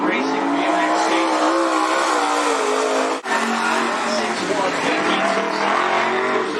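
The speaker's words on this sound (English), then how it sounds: "15079 for Chuck Christian on the first lap." Late model race car lapping Cottage Grove Speedway: a loud, near engine roar with shifting pitch as the car works through the lap, briefly cut once, while an announcer talks over it.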